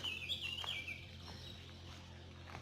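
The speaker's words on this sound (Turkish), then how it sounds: "Evet maşallah epey sayıda farklı kuş sesleri var." Wild birds sing in a Norwegian forest, several different species trilling and chirping, with a bright twittering burst early on and scattered calls continuing over a steady low hum.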